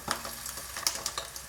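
An egg frying inside a slice of bread with a hole cut in it, cooking in a pan with a steady soft sizzle and scattered small pops and crackles, close and fairly quiet.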